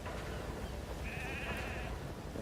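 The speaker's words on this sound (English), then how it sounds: "we see our friends, the sheep and Jackie, have made it back to Mother Base safely" Sheep bleat in the video game Metal Gear Solid V at Mother Base, a single drawn-out bleat rising faintly above a steady wash of background noise.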